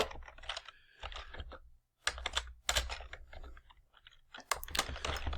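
Bursts of rapid clicking keystrokes on a computer keyboard, close and fairly quiet, in several clusters separated by brief pauses.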